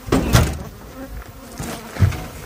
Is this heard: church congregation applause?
no